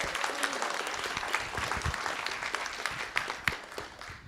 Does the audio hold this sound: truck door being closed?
no